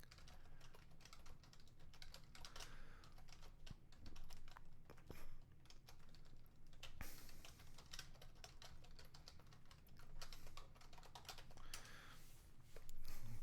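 Fingers tap a computer keyboard in quick, irregular bursts of clicks, close and faint, continuing steadily with brief pauses between runs of keystrokes.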